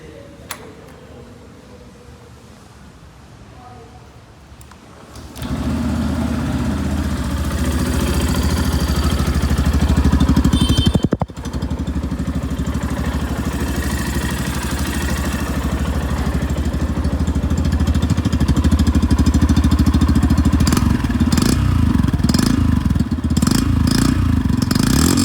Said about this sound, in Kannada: ಹಾಗೆ ಈ ಒಂದು ಬೈಕ್ ನ ಎಕ್ಸಾಸ್ಟ್ ನೋಟ್ ನ ನೋಡ್ಕೊಂಡು ಬರೋಣ ಬನ್ನಿ